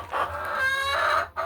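Hens cluck close by inside a hen house, a busy run of short, overlapping calls and chatter with a brief dip near the end and no voices.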